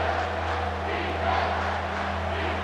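A home stadium crowd in a college football video game roars steadily on third down, a dense, continuous wall of cheering with a low hum beneath it and no talk.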